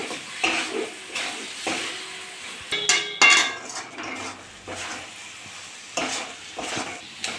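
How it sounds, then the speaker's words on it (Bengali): Semolina with ghee for laddu is stirred in a pan, the spoon scraping and knocking against the metal in irregular strokes, with a few sharper clanks and a soft sizzle underneath. "এটা নেড়ে চেড়ে নেব।"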